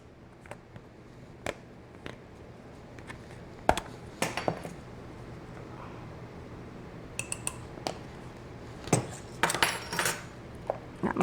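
Cornbread dressing ingredients mixed in a bowl with a utensil, producing scattered clinks and scrapes against the dish, with a busier run of knocks near the end; close and moderately loud, no talking.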